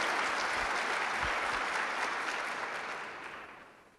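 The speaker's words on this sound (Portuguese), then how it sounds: "Pode aplaudir" A church congregation applauds during a worship service: dense, sustained clapping from a large crowd that slowly thins and fades toward the end.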